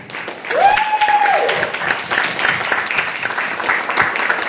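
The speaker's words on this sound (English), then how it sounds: "thank you all in abundance with the loudest round of applause" An audience claps at an International Friendship Week celebration in a Delhi hotel, with steady, moderately loud applause and a short whistle-like tone near the start.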